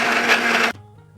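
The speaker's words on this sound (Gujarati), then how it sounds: "તેને આપણે મિક્સર જારમાં લઈ લઈએ। હવે તેમાં આપણે થોડું પાણી એડ કરીશું અને જ્યુસ તૈયાર કરી લઈશું" Mixer grinder blending beetroot pieces with water, a loud, dense whir lasting under a second before the motor cuts off and only a faint hum remains.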